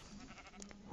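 Minecraft sheep bleat in short wavering calls, a few quick bleats close together, heard alone at moderate volume.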